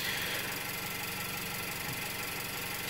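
A car engine idles with a steady, dense mechanical drone and faint rhythmic ticking, picked up close through a contact microphone, continuous and even.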